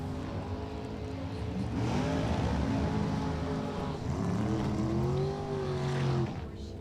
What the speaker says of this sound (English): Big block Chevy dragster over there for the technical rider out of Southampton